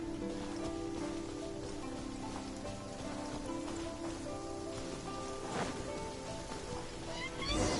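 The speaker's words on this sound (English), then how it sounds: "Started to rain!" Rain falls steadily in the video game Genshin Impact, a dense hiss of drops spread evenly across the scene with soft, continuous patter. Faint game tones sit underneath, with no voices speaking.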